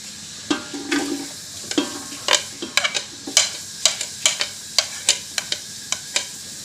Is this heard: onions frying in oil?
yes